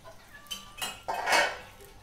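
A metal lid is set onto a pot of simmering vegetables for a Filipino sinampalukan of pork and chicken, heard as a quick run of close clinks ending in a louder scraping clatter.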